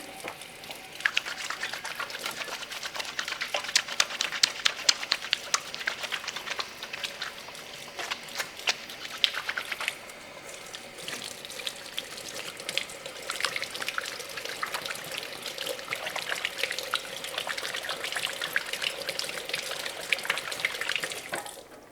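Tap water runs steadily into a sink while hands are washed before handling sourdough starter, a continuous close splashing trickle with small shifts in flow and no talking.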